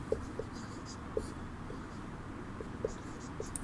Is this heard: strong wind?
no